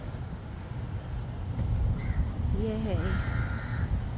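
A crow at Siloso Beach caws a few times in quick succession, fairly close, over steady wind and outdoor ambience while someone speaks briefly.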